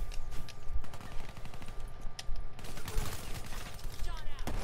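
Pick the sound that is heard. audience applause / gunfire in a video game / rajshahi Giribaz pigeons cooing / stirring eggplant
gunfire in a video game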